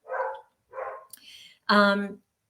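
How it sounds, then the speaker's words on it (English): A dog barks at a deer in a few separate bursts. Three shorter barks come first, then one louder and fuller bark closes the run, with short silences between them. "I apologize for my dog barking at a deer"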